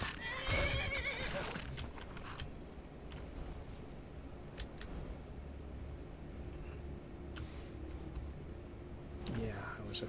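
A horse in the Skyrim video game whinnies loudly near the start, then hooves clip-clop faintly beneath a steady game ambience, with a second brief neigh near the end.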